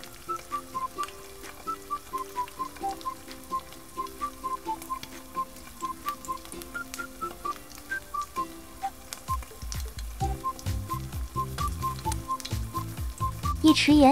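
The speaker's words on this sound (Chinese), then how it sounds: "翻面再煎5分钟。" Steak searing in a pan with salt sprinkled over it gives a steady, soft sizzle beneath looping background music.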